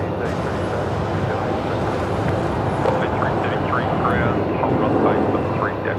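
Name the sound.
Jetstar Airbus A320 jet moving at Melbourne Airport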